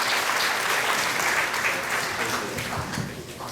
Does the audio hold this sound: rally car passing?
no